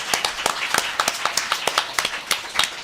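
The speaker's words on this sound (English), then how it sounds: "More applause for Alexis, please" Audience applause following a poetry reading at a festival, a steady patter of many hands clapping with sharp irregular claps throughout, moderately loud and close.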